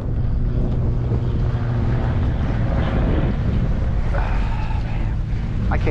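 An airplane drones overhead on a blustery day on the water while flounder fishing, its low steady hum partly masked by strong wind buffeting the microphone throughout.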